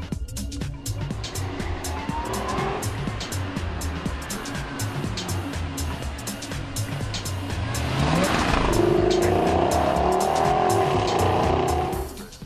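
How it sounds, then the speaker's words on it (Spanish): Supercharged 510-horsepower Jaguar XKR coupe driving, its engine droning steadily throughout, then rising into a louder, rising rev and whine from about eight seconds as it accelerates, with tire noise underneath. "un Jaguar XKR con 510 caballos de fuerza"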